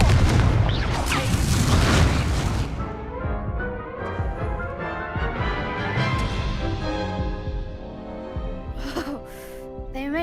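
A Confringo blast spell going off during a Hogwarts Legacy duel: a loud, booming burst of explosive energy at the start that rolls into a sustained crackling rumble, fading into lingering magical shimmer and tones.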